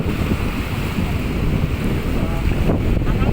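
Strong onshore wind and breaking surf at Bang Saen beach, Thailand, form a loud, continuous roar, with gusts buffeting the microphone throughout and no voices heard.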